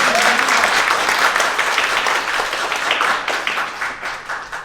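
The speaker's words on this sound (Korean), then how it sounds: "마지막으로 큰 박수 해주셨으면 좋겠습니다" An audience at a National Assembly forum in Korea gives a big round of applause: thick, sustained clapping that starts loud and gradually thins and fades toward the end, with no speech over it.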